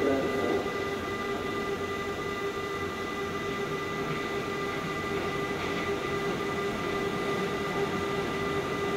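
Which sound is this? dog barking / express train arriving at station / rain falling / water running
express train arriving at station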